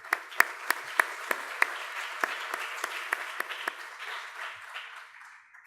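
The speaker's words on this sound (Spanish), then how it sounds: "les pido un aplauso para recibir al doctor" Audience applause welcoming a doctor to the stage at a university conference, a steady wash of clapping with several sharp individual claps standing out, gradually thinning and fading over about six seconds with no talking.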